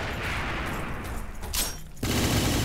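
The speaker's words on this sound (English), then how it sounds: "You get a Gatling gun monster from this guy." Rapid Gatling gun fire from a monster in the Roblox-style video game Deepwoken, a dense continuous burst of gunfire that swells louder near the end, with no talking.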